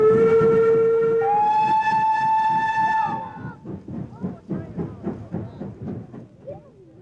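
A BR Standard Class 4 76000 Mogul steam locomotive sounds a long whistle in two rising tones, then pulls away with rhythmic chuffing exhaust beats that quicken and fade slightly, loud and close.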